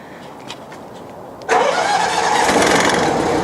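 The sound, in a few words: jetter trailer engine starting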